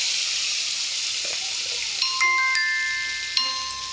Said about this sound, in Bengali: পেঁয়াজ কুচি আর টমেটো কুচি দিয়ে দিলাম।